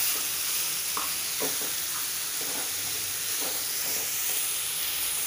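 Onions frying in oil for paneer bhurji make a continuous sizzle, broken by soft scraping stir strokes at irregular intervals, close and alone with no talk.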